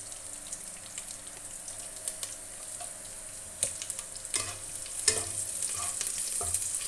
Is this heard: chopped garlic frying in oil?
yes